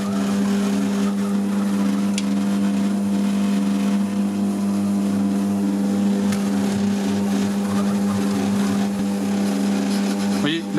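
Monsieur Cuisine Connect food processor motor straining on brioche dough, a loud continuous whining drone with a strong steady hum, labouring throughout before cutting off at the end.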